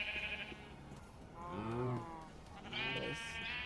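Sheep in Minecraft bleating twice, two drawn-out wavering baas spaced about a second apart against quiet background game ambience, fairly close and clear.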